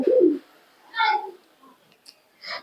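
Pigeons cooing at a Giribaz racing pigeon tournament in West Bengal, several separate low rounded coos with pauses between them, close and fairly clear, no voices.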